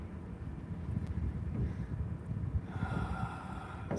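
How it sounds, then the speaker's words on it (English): Wind gusting outdoors around a garage roof, a steady low rumbling buffet on the microphone that builds slightly toward the end, with no voices. "But it's windy."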